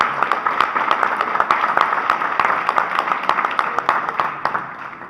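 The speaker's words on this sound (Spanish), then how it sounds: "pido un aplauso" An audience applauds at a library's 60th anniversary commemoration, a steady patter of many hands clapping at moderate distance that thins slightly toward the end.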